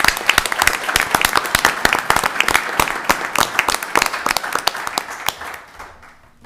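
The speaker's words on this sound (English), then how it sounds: "let's give this team a round of applause" An audience at a town board of commissioners meeting applauds a farmers market team: dense, brisk clapping from many hands that thins out and fades to quiet at the end.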